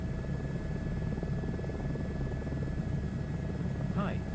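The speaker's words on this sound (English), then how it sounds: "you're in a helicopter, bub." Steady rumbling drone of an Airbus H125 helicopter's turbine engine and rotor in MSFS 2024, a constant low whir with a thin high whine throughout, and a brief voice near the end.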